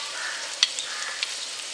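Turmeric sizzles in hot oil in a pan for a Maharashtrian potato bhaji, a steady close frying hiss with a couple of small clicks from a spoon.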